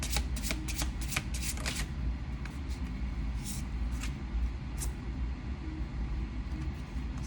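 Tarot cards being shuffled, with a quick burst of crisp riffling flutters at the start, then softer scattered shuffles over a steady low background rumble.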